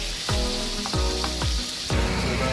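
Pepper steak pieces searing and browning in a hot pan, a dense, close sizzle broken by a few regular spatula strokes, with no one speaking.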